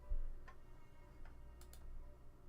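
A dusty cuckoo clock in the video game The Last Door ticks in soft, irregular clicks over a low ambient hum, faint and with no speech.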